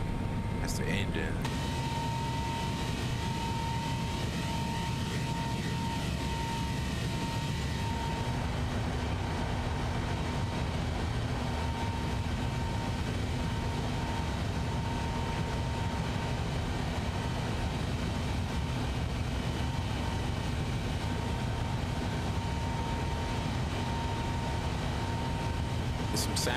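A Boeing 777-300ER jet engine drones with a steady, loud, broadband roar and a faint whine throughout, with a few brief knocks at the start and end.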